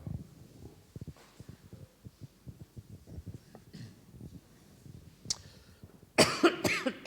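People cough and shuffle quietly during a church service, scattered soft coughs and rustling building to a louder, close cough burst near the end.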